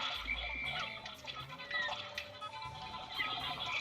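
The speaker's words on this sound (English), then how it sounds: "Dealing with the first frog." Video game frog in Pikmin croaking over watery ambience, repeated deep croaks with faint drips in between.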